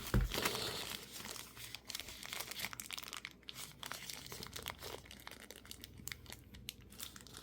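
A plastic bag crinkles and rustles continuously up close while unboxing an Insta360 X5 camera, with irregular crackling handling noises and no speech.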